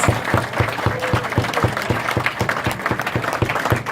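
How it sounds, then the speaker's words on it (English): Steady applause from a crowd, dense clapping with a few sharper claps standing out, continuing throughout without pause. "Another round of applause."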